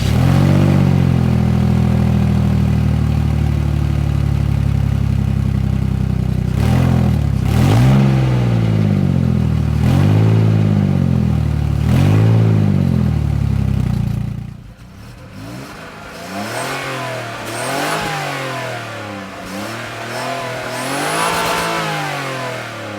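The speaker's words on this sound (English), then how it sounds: "Let's have a little exhaust comparison test," Car engine with a newly fixed exhaust, revved repeatedly in loud, rising and falling bursts, then a second run that sounds quieter and smoother with rhythmic rev swells and no talking.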